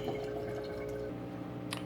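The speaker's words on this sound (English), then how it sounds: "Okay, the water's running off clean" Rinse water runs and drips off freshly cleaned aquarium canister filter media, a soft continuous trickle with light splashing and a few brighter drips, close and quiet with no talk.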